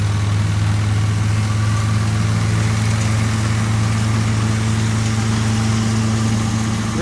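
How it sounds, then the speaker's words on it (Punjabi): A New Holland 3630 TX tractor engine runs at a steady idle throughout, a loud low rumbling drone with constant vibration and no voices. "ਦੇਖੋ ਜਿਹੜੀ ਚਾਲ 'ਚ ਹੁਣ ਟਰੈਕਟਰ ਚੱਲਦਾ ਹੈ"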